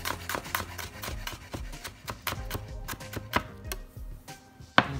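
A knife slices through peeled garlic cloves on a board, making quick, light, closely spaced tapping cuts in a steady run, fairly quiet and close, with no one speaking.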